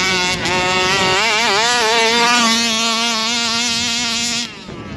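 A Rovan Baja 5B gas-powered RC car's small two-stroke engine buzzes loudly and steadily, its pitch swooping up and down with throttle, then cuts out abruptly near the end, leaving near quiet.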